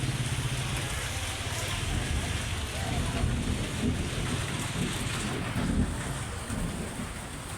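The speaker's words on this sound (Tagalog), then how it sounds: "ang lakas ng ulan." Heavy afternoon rain pours steadily in a dense hiss, with low rumbling underneath, constant and fairly faint throughout.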